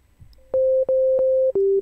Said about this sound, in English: the best way to understand the modulation aspect is to load up a sine wave